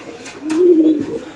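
A pigeon gives a single close, loud, throaty coo that rises and falls in pitch, with faint rustling around it.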